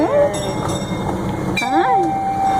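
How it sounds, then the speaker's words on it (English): A miniature train ride rolls through a kiddie amusement park, with a steady rumble, a short whistle-like tone and other bright tonal sounds, while voices talk over the ride. "Have you ever been on a train ride, Bella?"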